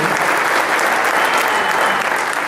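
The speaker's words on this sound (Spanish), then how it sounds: "Un fuerte aplauso" Loud, sustained applause from a crowd at an anniversary celebration for a radio station, honoring journalists. Thick, continuous clapping runs unbroken and close, with no voices standing out.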